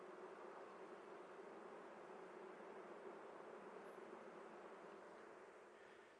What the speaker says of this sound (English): There's a lot of bees on the outside edge there, walking around